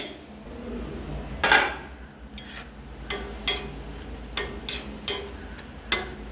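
Broccoli thoran being stirred in a pan, a series of irregular scraping and clattering strokes of a spoon against the metal, with a low steady background hum between them and no talking.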